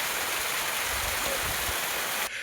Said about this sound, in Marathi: इथे डोंगरामध्ये खूप सारे छोटे झरे आहेत बघा